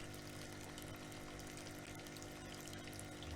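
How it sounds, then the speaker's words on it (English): Churning water tanks lining a shop wall in the video game Kentucky Route Zero give a steady, even wash of bubbling, pump-like water noise that carries on unchanged throughout. "The left wall is lined with churning tanks of water."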